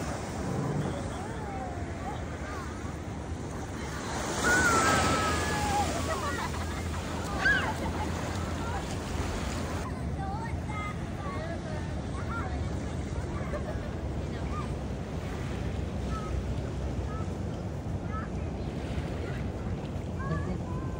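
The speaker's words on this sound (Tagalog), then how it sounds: "Dito na kami guys sa dagat." Ocean waves and wind at the sea, a continuous broad rush with gusts buffeting the microphone, as children and adults chatter and call out nearby throughout.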